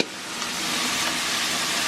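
Onions frying on medium heat in a pan with chicken, garlic and ginger, giving a loud, steady, close sizzle with no pauses and no talk.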